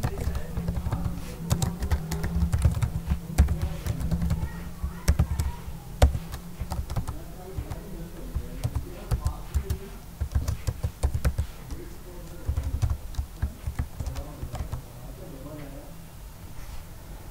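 Someone types PHP code on a computer keyboard, a fast, irregular run of close key taps and clacks that goes on throughout while someone speaks over it.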